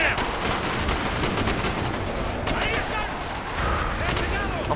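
Dense gunshots and automatic fire in Call of Duty: Black Ops ring out continuously, loud and close, with voices talking over the shooting.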